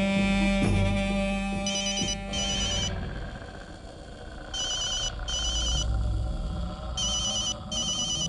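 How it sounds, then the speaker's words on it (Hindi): A phone rings in repeated high, trilling bursts over a background of music and ambient sound. "शेरा का फोन है हुजूर।"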